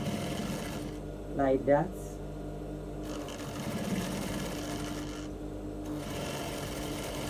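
A sewing machine stitches a straight shoulder dart on a bustier, running steadily throughout at moderate level, with someone speaking briefly over it.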